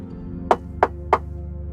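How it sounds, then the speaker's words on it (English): A door is knocked on three times in an even, moderately spaced rhythm, each rap sharp and close above a quiet low hum. "it's not very long before you hear a knock at the door."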